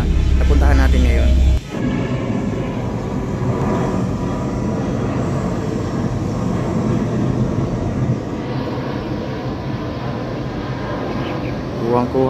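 An airplane passes overhead above a cemetery in Davao, a broad, steady roar of engine noise that fills the scene from start to finish at fairly constant loudness.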